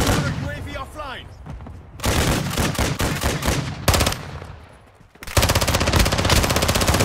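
Gunfire in Call of Duty: Modern Warfare II multiplayer: several loud bursts of rapid automatic fire, close and harsh, broken by short pauses, with voices of players and game announcer mixed in.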